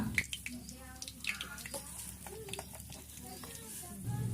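Dried red chillies crackle and sizzle as they hit hot oil in a home kitchen pan, a faint, busy frying hiss with a voice talking over it.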